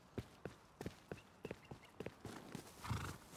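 Horse hooves clip-clopping on the ground in the Rust video game, a steady run of sharp, evenly spaced hoof strikes, fairly close and quiet, ending in a brief breathy snort or whinny.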